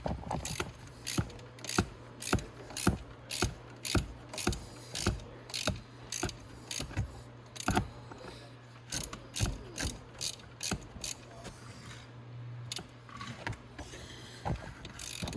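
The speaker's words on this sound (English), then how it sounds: "rather than just sit here and crank my ratchet here" Hand ratchet cranking bolts on a Venom E-Grizzly 1500W electric ATV during a controller change, making close, steady bursts of sharp clicking strokes repeated in a regular rhythm with brief pauses.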